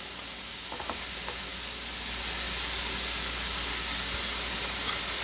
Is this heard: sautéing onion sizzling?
yes